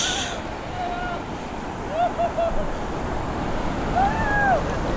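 Sea waves surge during a typhoon in a steady, close wash of surf with gusting wind across the microphone, and faint whistling tones rise briefly above the roar.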